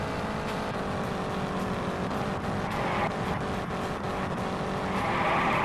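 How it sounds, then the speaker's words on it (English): Race car in Indianapolis 500 Evolution, a 1961 Indianapolis 500 career race: a steady engine drone with a hissing tire slide that swells toward the end, no voices. "the car is sliding just a little bit"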